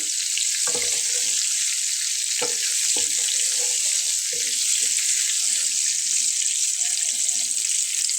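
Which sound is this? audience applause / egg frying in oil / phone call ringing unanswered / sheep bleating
egg frying in oil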